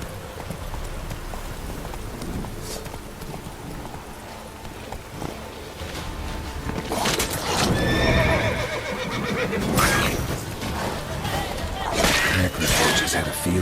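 Roach, Geralt's horse in the Witcher 3 video game, whinnies loudly while hooves clip-clop steadily, set among busy game ambience with occasional crashing noises.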